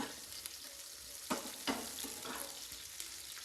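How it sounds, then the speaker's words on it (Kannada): Onions fry in a pan for fish curry, giving a soft steady sizzle with a couple of brief scraping stirs, quiet and close with no voices. "ಈರುಳ್ಳಿ ಬ್ರೌನ್ ಕಲರ್ ಬರೋವರೆಗೂ ಬೇಯಿಸ್ತಾ ಇರಿ"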